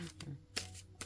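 Tarot cards shuffled by hand in short riffling bursts, three brief rustling flurries separated by quieter gaps, close and fairly soft.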